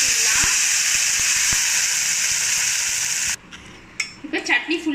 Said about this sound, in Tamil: சேர்த்துட்டு நம்ம அரைச்சி வச்ச சட்னியை கொட்டிடலாம்.